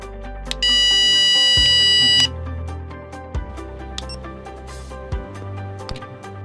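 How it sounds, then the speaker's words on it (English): Handheld electronic repeller device giving out a continuous high beep lasting under two seconds, followed by short clicks and faint tones, close and clear. "The device beeps continuously while holding the sound"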